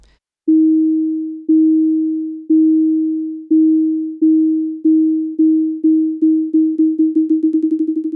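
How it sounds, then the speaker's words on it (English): A steady electronic sine-tone beep from a video game scanner repeats, starting slow and speeding up steadily until the beeps nearly merge into a rapid stutter. "I use a meta sound source to produce a simple sine wave that beeps at a variable rate"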